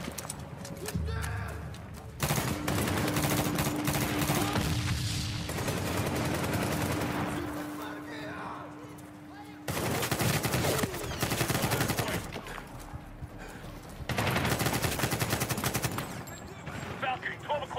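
Repeated bursts of rapid automatic gunfire in several long volleys, loud and close, with brief quieter gaps between them, from the video game Medal of Honor (2010).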